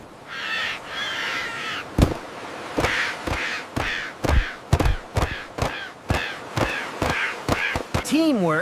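Harsh seagull squawks and calls come close and loud, repeated in irregular bursts over a bright outdoor ambience while people talk underneath.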